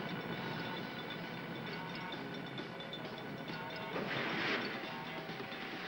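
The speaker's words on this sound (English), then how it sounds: "Reclaimed ore flows to the train loader." Nickel ore pouring into a train loader at a mine, a continuous dense rumbling clatter with a brief louder rush of material near the end, steady and moderately distant.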